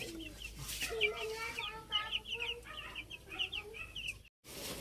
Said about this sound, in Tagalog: Si nanay po lagi ang nagpapakain ay ang aming mga sisiw.